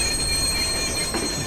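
Train wheels squealing as a train passes in the video game Watch Dogs, a sustained high metallic screech over a constant rumbling rail noise.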